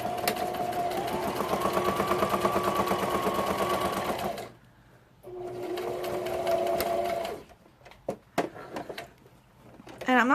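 A sewing machine stitches straight lines across fabric scraps, running steadily for several seconds, pausing briefly, then running again before stopping amid scattered clicks and handling noises.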